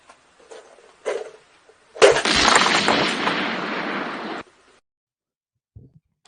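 A cartoonish explosion sound effect: a short pop, then a loud sustained burst of roaring noise lasting about two seconds before cutting off, with a few small clicks before and after; no one speaks.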